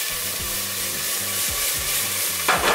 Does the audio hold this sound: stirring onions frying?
yes